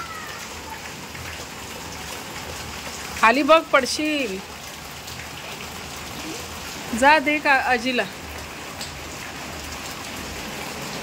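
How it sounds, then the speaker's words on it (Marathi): Steady rain pours down throughout, an even close hiss of drops on surfaces. Voices talk over it in two short stretches. "पाऊस पुन्हा चालू झालेला आहे"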